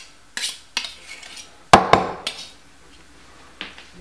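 Garlic being crushed in a handheld garlic press, several sharp metallic clacks and squeezes at irregular intervals, close and distinct, with one louder crunching snap in the middle.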